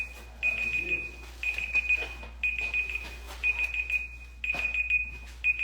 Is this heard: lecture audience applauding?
no